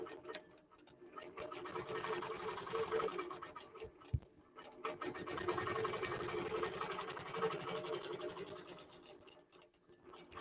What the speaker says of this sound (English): will automatically take a tie-off stitch and then quilt this design out